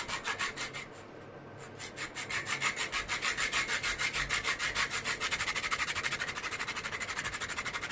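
A fan stand part from a homemade rechargeable fan is rubbed smooth by hand, giving steady rhythmic sanding strokes, close and fairly loud, repeating evenly with no talk.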